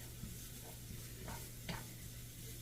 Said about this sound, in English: we want to saute our vegetables